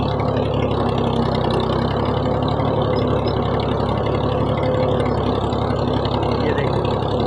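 Loud, steady rumble of a tractor's diesel engine ploughing a field, running continuously up close, droning and unbroken throughout.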